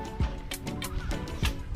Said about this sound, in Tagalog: Native na manok.